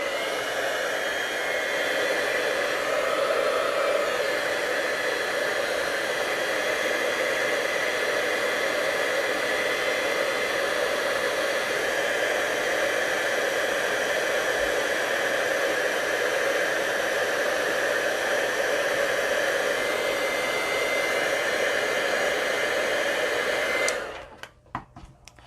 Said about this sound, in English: And then I'm going to use my heat tool.